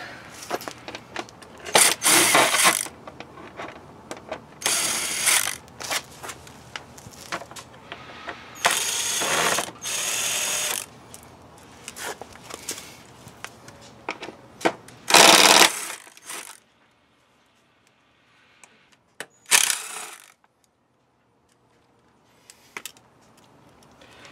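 A tool works the fairing nuts loose on a Honda CBR600RR motorcycle, with bursts of rapid mechanical ratcheting and whirring up close, broken by pauses and near silence toward the end.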